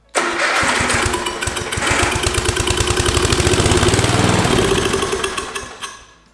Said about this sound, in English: So now I know that the engine is going to run